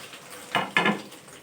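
Breadcrumb-coated potato cutlets frying in hot oil, two short close bursts of crackling sizzle over a faint steady hiss, no voices.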